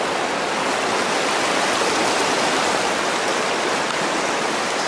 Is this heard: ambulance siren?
no